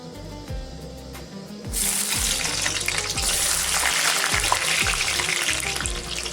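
Garlic hits hot oil in a kadhai, a soft background hum giving way to a sudden loud, steady sizzle that continues close and bright, with faint rhythmic low thuds underneath.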